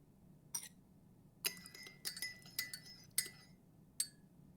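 A spoon clinks against a glass while stirring a drink in the video game Murder by Choice, with bright, close ringing taps in an irregular run of about seven strikes over a quiet background.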